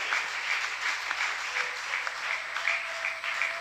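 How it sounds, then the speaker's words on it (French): Applause from an audience at a book launch, a moderate steady patter of clapping heard at some distance, with a faint tonal hum beneath and no speech. "Je vous prie de continuer vos acclamations, s'il vous plaît."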